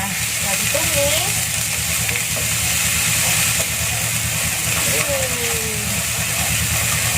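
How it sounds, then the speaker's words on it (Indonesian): Spice paste for nasi uduk sautéing in a pan, a steady close sizzle and hiss running throughout with occasional stirring scrapes, while a person talks over it. "Kita tumis dulu bumbunya."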